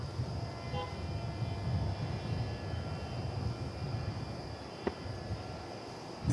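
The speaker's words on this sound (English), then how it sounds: "It's a proud tri-jet." A tri-jet airliner arriving at DFW Airport, a continuous low jet rumble and whine that stays steady and moderately distant throughout, with no talking.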